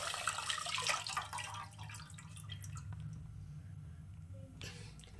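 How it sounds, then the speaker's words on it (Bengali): Packaged Nandini milk, 500 grams, is poured into a cooking pot: a soft, close, trickling liquid splash for a few seconds, faint overall, with some light kitchen noise. "তো দুধটা দিয়ে দিলাম।"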